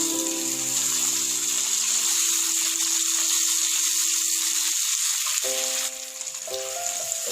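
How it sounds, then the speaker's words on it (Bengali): Duck eggs fry in a pan of onion masala spiced with turmeric and chili powder, giving a steady, close sizzle that runs throughout over soft background music. "ডিমগুলো হালকা লাল করে ভেজে নেব।"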